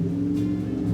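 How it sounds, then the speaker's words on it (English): Road traffic passing outside a home, with cars revving along the street, forms a steady, low engine rumble that continues throughout without a break. "I apologize if you hear traffic."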